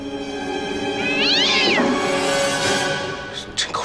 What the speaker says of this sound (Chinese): 猫叫。